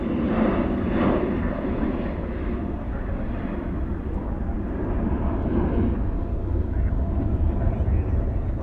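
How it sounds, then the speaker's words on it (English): American Airlines Airbus A321 in Allegheny retro livery at night at Dallas-Fort Worth airport, a continuous low jet engine roar with muffled voices talking over it. "That one in the Allegheny Retro livery headed to San Francisco."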